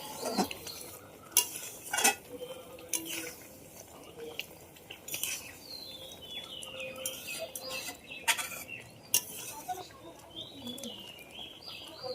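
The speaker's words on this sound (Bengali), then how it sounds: "গুড়ের মধ্যে ফোটার সময় তল থেকে এভাবে নেড়ে দিতে হবে যাতে গুড়টা না লেগে যায়" A ladle scrapes and knocks against a pan while boiling jaggery is stirred for mango pickle, the strokes coming in uneven bursts, with birds chirping and cooing in the background.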